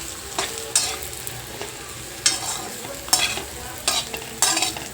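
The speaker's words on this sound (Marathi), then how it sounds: "भरलेली भेंडी टाकायची आहे। हे आपण असं चांगलं मिक्स करून घेऊयात।" Spice-stuffed okra (bhindi) fries in hot oil in a pan, a continuous sizzle broken by a handful of sharp scraping stirs spaced a second or so apart, close and clear with no talking.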